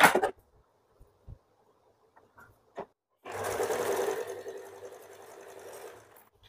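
A sewing machine runs in one steady burst of about three seconds, joining blouse pieces and the neckline piece together, after a few soft handling clicks and taps.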